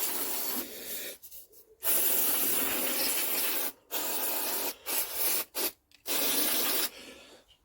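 Cleaner sprayed onto a Lister generator in repeated bursts, a close, loud, airy hiss broken by short pauses and quick on-off blasts, with no speech.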